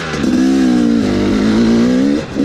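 A warmed-up 2018 KTM 250 XC-W TPI dirt bike on a trail fires up almost instantly and holds a loud, close, buzzing idle with a slight rise and fall before cutting back at the end.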